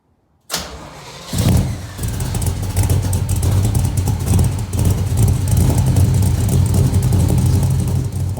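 A Chevrolet C10 V8 engine running on all eight cylinders starts abruptly after a brief silence, catching with a loud burst and settling into a steady, throaty idle rumble close by.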